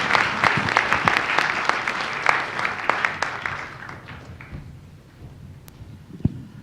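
Audience applause at an admitted students open house, crisp claps close by at first that gradually thin out and fade, ending with a few scattered claps and a single sharp clap near the end.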